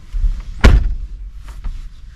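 A 2023 Ford F350 Super Duty pickup door swings shut with one solid, heavy thunk close by, followed by faint rustling, with no talking.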